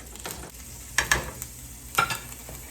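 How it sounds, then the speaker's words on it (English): Corn sizzles in hot oil in a pan, a soft continuous frying hiss close by, broken by a few sharper clatters as it is spread into a single layer. "Once the oil's heated, we can add our corn. Get it in the pan"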